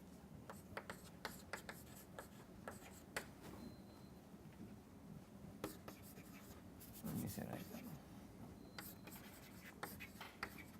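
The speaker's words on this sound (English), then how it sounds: "Let me write this thing out in full." Chalk or marker writing out a formula on a board during a probability lecture, faint scratchy strokes and taps in irregular bursts in a quiet room, with soft background noise.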